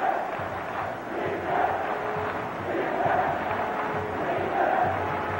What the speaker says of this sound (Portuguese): A torcida não para de gritar